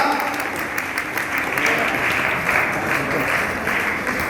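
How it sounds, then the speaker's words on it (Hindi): Loud applause at a gathering, a dense, even roar of many people clapping together that holds steady without a break, with a faint murmur of voices beneath. "इधर देखिए जोरदार तालियां।"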